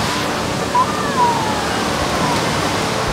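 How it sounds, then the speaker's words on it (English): Looking Glass Waterfall in Pisgah National Forest gives a steady, even rush of falling water that fills the whole stretch without pause. "So here we are in front of Looking Glass Waterfall."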